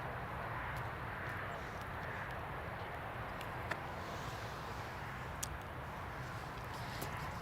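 A British Airways Airbus A320neo at Newcastle Airport gives off a steady, broad jet roar that holds at an even, fairly distant level throughout, with no voices over it.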